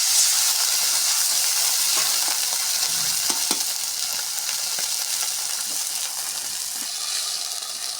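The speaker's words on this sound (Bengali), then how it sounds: "লাল লাল করে ভাজা আমার হয়ে গেছে" Red-fried potatoes sizzling in a pan for a potato dal, a steady loud hiss with scattered clicks of stirring over the whole stretch.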